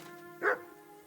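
A dog in the medieval game Kingdom Come: Deliverance II gives a single short bark near the middle, rising clearly above a faint steady background hum.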